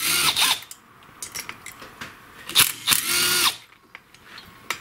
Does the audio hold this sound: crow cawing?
no